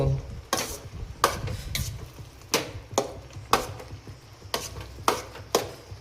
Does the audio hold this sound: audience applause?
no